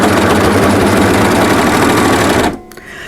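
An overlocker serger stitches at full speed, a loud, close, steady mechanical whir with rapid rhythmic chatter that stops abruptly near the end.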